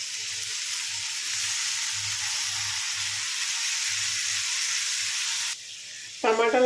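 Chopped tomatoes hiss loudly in hot oil in a pan for an egg dish, a dense, steady sizzle with faint low thumps beneath, which drops abruptly near the end before a brief different noise; no speech.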